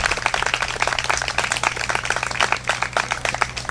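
Applause for a town mayor at a community overdose awareness gathering, a dense, steady crowd clapping with no break across the whole stretch, fairly near and full.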